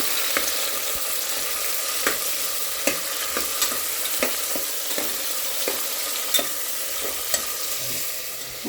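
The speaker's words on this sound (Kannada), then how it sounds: "ಈಗ ಟೊಮೊಟೊ ಹಾಕಿದ್ದೀನಿ ಗೈಸ್. ಟೊಮೊಟೊ, ಈರುಳ್ಳಿ, ಮೆಣಸಿನ್ಕಾಯಿ." Tomato, onion and green chili fry in a pan with a steady close hiss of sizzling oil, punctuated by regular sharp clicks of a spoon stirring against the pan, with no talking.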